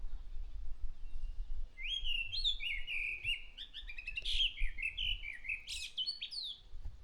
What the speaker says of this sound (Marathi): कुठला पक्षी ओरडतो या?